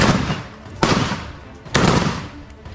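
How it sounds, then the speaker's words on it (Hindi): Two loud, close gunshots ring out about a second apart, each with a sharp crack and a long decaying echo, fired at a K9 unit dog during an attack in Israel. "इस दौरान आतंकी उसे गोली चलाकर मार देता है।"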